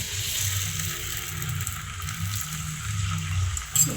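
Egg sizzling and frying in hot oil in a pan for a chicken pastil egg roll, a steady close crackle with brief louder spatters near the end.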